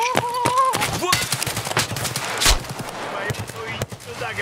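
Gunfire in the video game Escape from Tarkov, a rapid volley of sharp shots in quick succession followed by scattered single cracks, loud and close, with players talking over the shooting.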